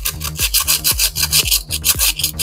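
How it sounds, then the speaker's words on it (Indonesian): Sandpaper rubs the tip of a car oxygen sensor in quick, rhythmic back-and-forth strokes, a close, gritty scraping that repeats steadily with no talking. "Kita coba keluarkan dan kita bisa amplas ya di bagian ujungnya ini"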